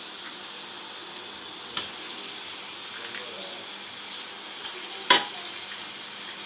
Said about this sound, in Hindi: और गोश्त को भी 3 से 4 मिनट भून लेंगे